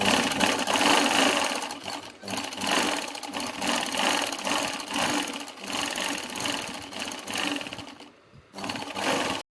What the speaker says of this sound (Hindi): अब इन दोनों को आपस में ओवरलैप करते हुए यहाँ से स्टिचिंग लगाकर इसको सिक्योर